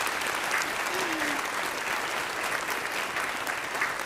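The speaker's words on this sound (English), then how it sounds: "We usually clap in this church for the families." Congregation clapping inside a church, a steady, dense wash of applause that holds at even loudness throughout, with a faint voice briefly audible beneath it.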